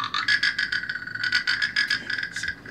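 A handmade instrument played to imitate a frog's call gives a rapid run of raspy, pulsing croaks that repeat steadily and close up, fairly loud, with no speech over them.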